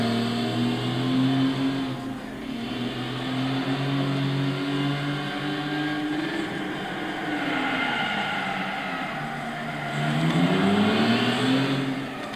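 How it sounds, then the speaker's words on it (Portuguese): A Ruf CTR2 (Porsche 911) with a 3.6 biturbo engine in Gran Turismo 6 drones steadily, its engine pitch sliding up and down with tyre noise underneath, loud and continuous. "Cantada de pneu federal aí. Mesmo com tração integral. Cantou as quatro rodas."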